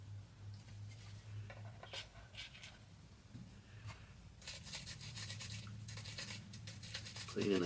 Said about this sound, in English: Cleaning the sides of that ramp and the center of it.